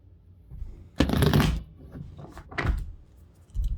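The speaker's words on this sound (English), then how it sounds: "So we're gonna do the reverse shuffle 3 more times and then 2 regular shuffles." Tarot cards are shuffled in a few quick riffling bursts, close and crisp, with short pauses between them.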